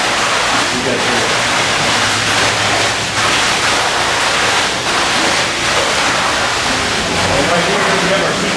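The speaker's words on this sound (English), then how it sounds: "This is what sprays the tire." Car wash equipment in an automatic wash spraying water and soap onto tires, a loud continuous hiss and rush of spray that fills the whole clip without pause.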